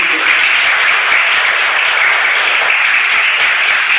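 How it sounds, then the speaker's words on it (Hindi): Loud, sustained applause from an audience welcoming guests at a school book release ceremony, dense clapping holding steady throughout with no voices. "जोरदार तालियों के साथ अतिथियों का स्वागत करेंगे।"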